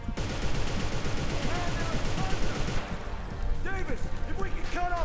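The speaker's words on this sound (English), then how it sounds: "Oh no, we can shoot him." Rapid gunfire from the video game Inversion, dense repeated shots running almost continuously at close range, with several voices talking over the shooting.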